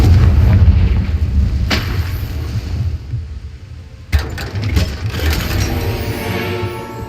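Fiery Confringo spell blasts from the game Hogwarts Legacy: a heavy booming rumble at the start, a sharp crack at about two seconds, then a loud burst of several rapid impacts, mixed with game background sound.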